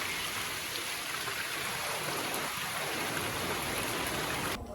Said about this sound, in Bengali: বৃষ্টির সাথে হালকা বাতাসও আছে